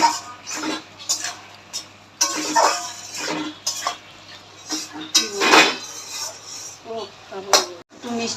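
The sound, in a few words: putting a lid on the cooking pot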